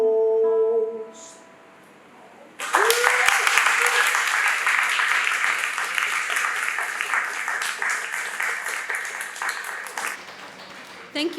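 Audience applause following a song at a book launch for Falling Pomegranate Seeds, starting after a couple of seconds of quieter sound with a tone, then a dense, steady wash of clapping from a room full of people that holds loud for about nine seconds.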